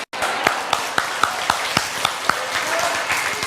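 Live audience applause in a hall, steady dense clapping from many hands with a few sharper individual claps standing out, no talking over it.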